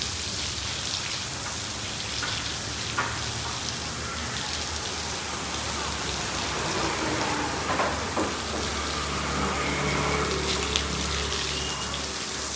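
A steady, dense hiss of water from a pressure pump spraying forcefully while cleaning a house, continuous and fairly loud throughout, with a low mechanical hum underneath.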